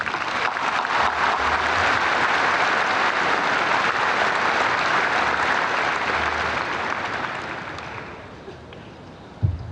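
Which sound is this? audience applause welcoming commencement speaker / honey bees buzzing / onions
audience applause welcoming commencement speaker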